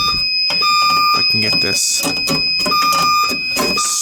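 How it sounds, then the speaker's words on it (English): A smoke detector alarm sounds indoors, its shrill electronic tone repeating in pulses while someone talks over it close by. "I'm gonna probably need to blow the smoke detector out."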